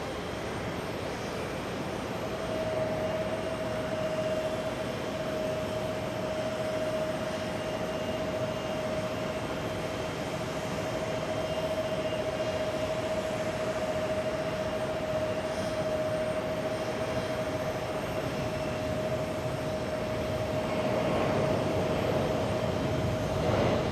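A Saudia airliner lands at JFK airport, heard as a steady, distant engine roar with a sustained whine throughout, swelling slightly toward the end.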